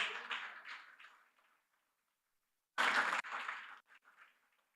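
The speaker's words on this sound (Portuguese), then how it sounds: "Uma salva de palmas para Cristo." Church congregation at an Easter service claps in two short bursts, the first fading out and a louder one after a pause, with a voice speaking faintly around the applause.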